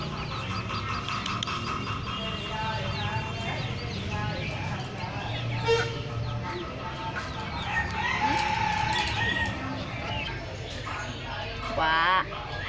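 A backyard flock of chickens with a rooster, loud close clucking and repeated crowing throughout, with people talking over the birds.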